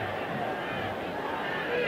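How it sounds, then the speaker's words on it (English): Large football crowd at a 1966 World Cup match between Hungary and Brazil, a steady dense roar of cheering and chatter filling the stadium throughout, continuous and fairly loud with no clear breaks. "And the crowd right behind Hungary now."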